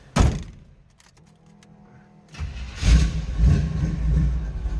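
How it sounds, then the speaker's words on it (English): A 1948 Chevrolet Stylemaster two-door street rod starts up. A sharp thunk comes first, then a quieter lull, then the engine catches and swells into a loud, steady rumble nearby. "Let's go ahead and fire it up so you can hear it run."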